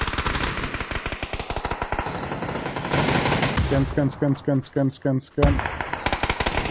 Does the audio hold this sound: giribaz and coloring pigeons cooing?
no